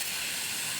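Steady, loud hissing rush of water from a hose filling a rubber dinosaur toy, continuous and close, with no pauses.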